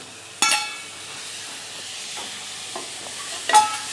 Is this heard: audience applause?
no